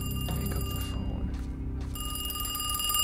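A telephone rings inside a SpongeBob horror video game, a tinny electronic ring sounding alone in short bursts separated by brief silent gaps, moderately quiet against a low background drone.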